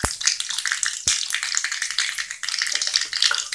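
Cumin seeds dropped into hot oil already crackling with mustard seeds, giving a bright, close sizzle full of rapid pops and spits that flares sharply twice as the seeds hit.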